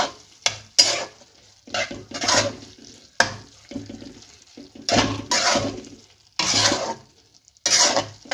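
Mocha ghonto, a banana flower dish, being stirred with grated coconut in a pan, heard as repeated bursts of close scraping and stirring separated by short quiet gaps, with a faint sizzle beneath and no voices.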